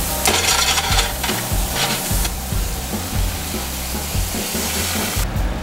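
A utensil scrapes and stirs browned bits of meat, mushroom and onion from a hot pan as wine goes in to deglaze for a sauce, with rhythmic scraping under a loud steady sizzle.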